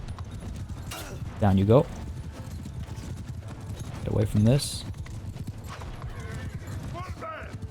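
Cavalry horses in a Mount & Blade II: Bannerlord siege battle thud along in a dense clip-clop, with two loud neighing whinnies rising above the hoofbeats while someone talks over the game sounds.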